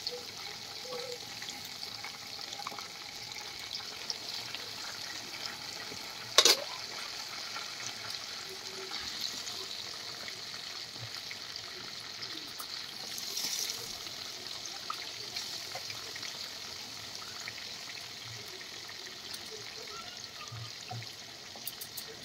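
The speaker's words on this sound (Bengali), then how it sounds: "তারপর এইভাবে সব চিকেনগুলোকে এইভাবে আমি ভেজে নিব, ভালোভাবে লাল লাল করে ভেজে নিব।" Chicken pieces frying in a pan over a low gas flame for an Afghani chicken recipe, a steady soft sizzle and hiss running throughout with one brief sharp clatter partway in.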